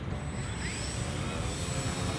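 A radio-controlled 3D model airplane, thrown by hand and flying forward, gives off a steady electric whine that stays loud and constant through a short stretch, with a rising tone sweeping briefly across it.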